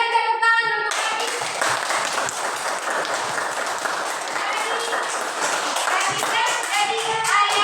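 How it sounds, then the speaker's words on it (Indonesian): A classroom audience claps for a child, starting abruptly after a brief voice and continuing as brisk, close, steady applause, with a few voices heard faintly under it toward the end. "Silakan berikan tepuk tangan untuk Adik"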